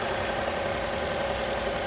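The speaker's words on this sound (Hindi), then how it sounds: "देखो ये है इसकी इंजन नॉइस।" A Renault Triber's engine hums at idle shortly after a cold start, a continuous low drone with a faint mechanical rattle, close by and unbroken.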